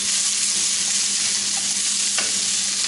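Vegetables for chicken marsala sautéing in a pan, a dense, even hiss of frying with a couple of soft utensil scrapes, steady and close.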